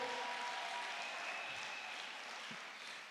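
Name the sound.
congregation applauding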